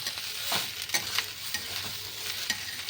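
Washed rice and lentils being stirred and lightly fried in a pot for vegetable khichdi, soft rhythmic scraping strokes over a faint sizzle, close and unaccompanied by talk.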